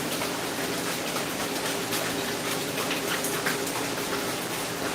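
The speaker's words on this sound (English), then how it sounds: "but it's really rainy and gross outside." Steady rain falls outside on a wet, dreary day, a dense even hiss that stays constant from start to finish with no voices over it.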